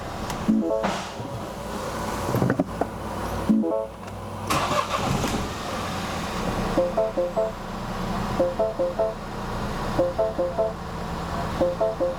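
A Mini Cooper engine that is running poorly turns over and runs roughly, with uneven rhythmic pulsing and a few sharp knocks, close by and fairly loud throughout.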